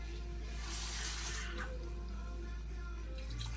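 Water pours into a pan of paneer mutter masala gravy to thin it, a soft, steady running splash lasting the whole moment, faint and close with no talking over it.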